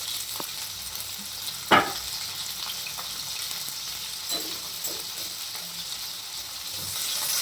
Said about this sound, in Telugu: ఇంకో జీలకర్ర అయితే మంచిగా ఫ్రై అయిపోయింది చూడండి